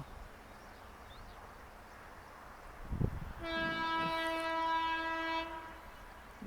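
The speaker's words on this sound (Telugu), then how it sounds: "సో 2 ట్రైన్ అయితే మన దగ్గరనే జింగ్ అవ్వబోతున్నాయి" At a high-speed railway crossing, an approaching train sounds one long, steady horn blast over a low rumble, after a brief thump.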